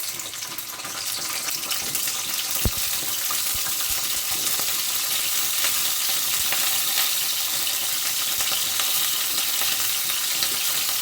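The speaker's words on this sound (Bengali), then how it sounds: "তো আমি ফুলকপিটা দিয়ে দিয়েছি, ফুলকপিটাকে একটু সুন্দর করে ভেজে নেব।" Cauliflower fries in hot oil, giving a dense, continuous sizzling hiss that stays loud and even for the whole stretch, with a few faint knocks of a utensil near the start.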